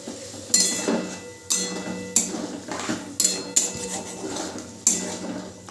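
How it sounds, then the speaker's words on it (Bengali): A metal spoon scrapes and clinks against a pan in repeated, irregular strokes while spice paste is mixed into a soybean curry, close and fairly loud with no voice over it. "এবার মশলাটা দিয়ে সব কিছু দিয়ে একসাথে খুব ভালো করে মিশিয়ে নিতে হবে।"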